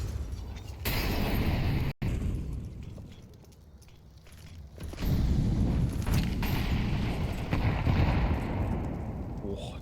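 A grenade blast in a Counter-Strike match on the Inferno map, a sudden loud boom within ongoing gunfire and game noise, while a commentator talks over the action.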